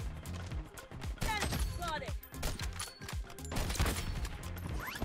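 Gunfire in the mobile shooter Bloodstrike, including sniper fire, scattered shots and mechanical clicks mixed with game effects, heard quite faintly under someone talking.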